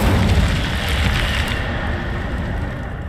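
A fire spell bursts out in Hogwarts Legacy, giving a loud, sustained whooshing roar with a low rumbling boom that holds steady for a few seconds, then thins slightly as it fades.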